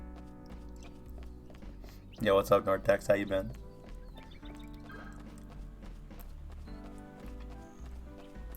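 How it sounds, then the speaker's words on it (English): A horse in the video game Lost Kingdoms II gives a short burst of loud, rhythmic clip-clop steps lasting about a second, while someone talks over the game's background music before and after. "God, that's a big fucking horse."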